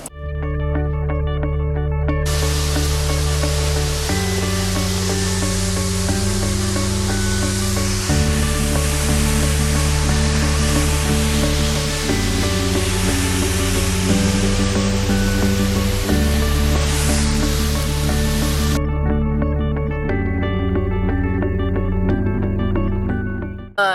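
Steady roaring rush of a waterfall in Iceland, a dense continuous wash of falling water heard close and loud, with a tonal hum running underneath.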